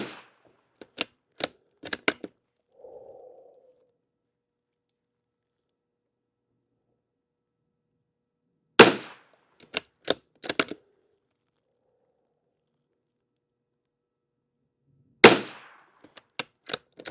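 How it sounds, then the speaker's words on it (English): Sharp, dry rimfire shots from CCI subsonic lubricated ammunition crack out in three separate strings of several rounds each, with quiet pauses between them; close and loud, with no voices. "And let's get our lube ammo over here. And give it a whirl, Pearl"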